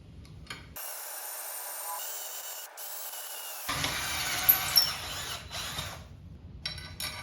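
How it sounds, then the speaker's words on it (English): A power drill whines steadily for several seconds, drilling holes through a handlebar clamp on a 1990s two-stroke build, cutting in and out with brief pauses, plus scraping and rubbing noises around it. "I'm gonna put the handlebar clamp on there and use that to drill our second holes"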